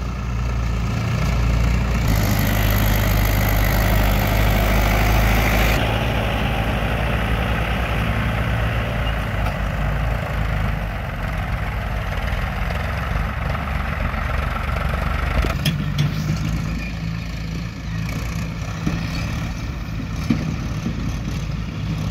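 Diesel farm tractors, a John Deere 5050D and a Mahindra 585 4WD among three working one field, rumble steadily with loud low engine drone throughout, load shifting slightly partway, no talk.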